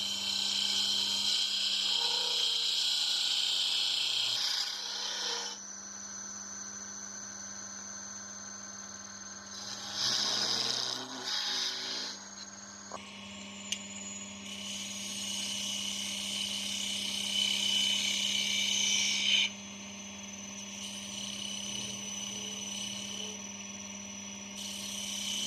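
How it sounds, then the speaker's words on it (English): Wood lathe running steadily while a beading and parting tool hollows the workpiece: a constant motor hum with a high whining cut that swells, breaks off briefly around the middle, then resumes, close and fairly loud. "A beading and parting tool is excellent for hollowing."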